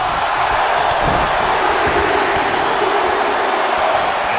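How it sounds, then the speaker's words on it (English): A wrestling arena crowd cheers in a video game match, a loud, dense, unbroken roar that holds steady from start to finish. "Listen to this crowd."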